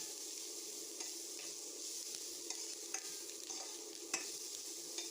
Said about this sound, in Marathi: व्यवस्थित लाल होईपर्यंत भाजून घेऊया.